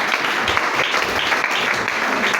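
A church congregation applauds steadily and loudly, dense clapping filling the space throughout with no break.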